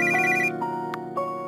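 A phone rings in an RPG Maker game: a bright electronic ringtone trill repeating near and loud over steady game music, a short chime note cutting in partway through.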